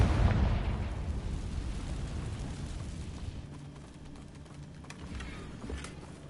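A fire spell explosion in the Hogwarts Legacy video game, fought against Ranrock's loyalists, bursts as a broad, rumbling blast that decays into lingering debris crackle and faint impacts.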